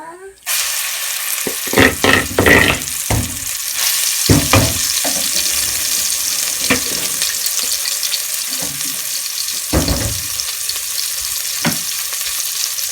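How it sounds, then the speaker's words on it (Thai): Chili paste and crab stir-fry in a pan, a loud, steady sizzle broken by repeated scraping and clattering stirring strokes, close up and with no talk over it. "จะคั่วน้ำพริกกับปูให้เข้ากันก่อนนะจ๊ะ"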